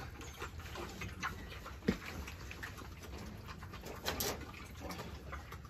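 Soft pigeon-like cooing, faint and somewhat distant, set against a steady background hiss, with a brief tap near the middle.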